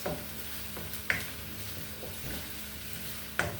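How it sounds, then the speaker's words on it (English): Fried rice stirred in an oiled pan, a steady low sizzle with a couple of sharp utensil scrapes and taps against the metal, close and unaccompanied by speech. "I'm going to stir it."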